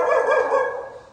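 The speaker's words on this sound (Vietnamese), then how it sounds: "Ôi, chó đây có vẻ sủa anh nhỉ?" A dog at a house gives a short run of tonal, yelping barks close by, ending with a sharp onset of another bark.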